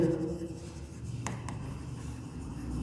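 Pen writing by hand on paper while a payment entry is filled in, a soft continuous scratch with a couple of sharper strokes partway through, close and steady with no talk.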